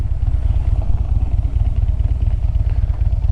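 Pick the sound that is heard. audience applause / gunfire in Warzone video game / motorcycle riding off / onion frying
motorcycle riding off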